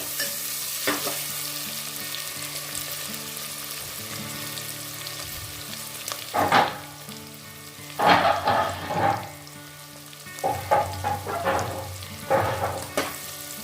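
Chopped onions for prawn biryani fry toward light brown, a soft ongoing sizzle punctuated by several louder clattering stirs against the pan, close up and without speech.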